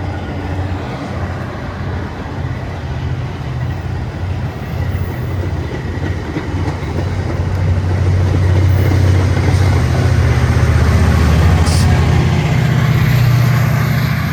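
Metra Rock Island commuter train #439 passes through Longwood Station in Chicago: a loud, steady, close rumble of railcars with rhythmic wheel clatter that grows heavier partway through and stays strong to the end.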